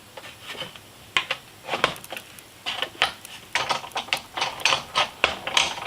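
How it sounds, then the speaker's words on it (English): Embossing folder sandwiched between plates and cranked through a manual embossing machine, giving a steady run of ratcheting, clicking mechanical bursts with no talking. "And then you go ahead and you just crank it through."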